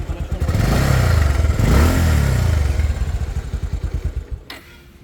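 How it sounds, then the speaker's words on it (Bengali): A motorcycle engine at a roadside bazaar near Savar, Bangladesh, runs with a fast, even putter, rises briefly in a rev, then settles back into a pulsing idle before cutting out near the end. It is close and loud. "এই বাইকটা একদম স্মুথলি, এই যে স্টার্টিং সাউন্ড"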